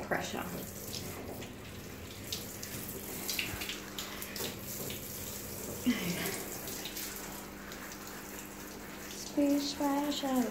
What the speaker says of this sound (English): Splash, splash, I was taking a bath.